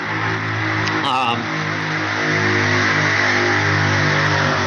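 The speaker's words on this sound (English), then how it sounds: "That's a motorcycle going by" A motorcycle engine hums and drones past at moderate distance, its low steady tone rising slightly, under people talking.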